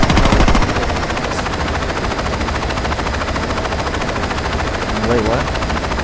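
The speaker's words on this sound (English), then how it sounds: "I got no weapon to shoot down the helicopter" A helicopter in the video game Saints Row 2 drones with constant rotor chop throughout, joined by bursts of gunfire, while a player talks briefly over it.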